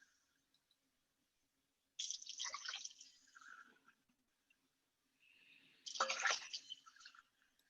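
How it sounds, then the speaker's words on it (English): Water pours into a cooking pot in two bursts, the first lasting about two seconds and the second arriving after a short pause, with splashing and trickling. The pouring sounds close and moderately loud, and no one talks over it. "I'm just gonna take my pot over here and cover it with 8 cups of water"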